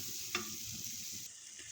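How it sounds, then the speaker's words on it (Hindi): Pumpkin sizzles in ghee in a pot while a spoon stirs it, a soft steady fry with one brief scrape of the utensil, no voices. "अब इसको मैं ज़रा भून लेती हूँ।"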